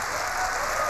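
A crowd applauds at Apple's 2013 iPad launch event, dense steady clapping filling the whole short moment.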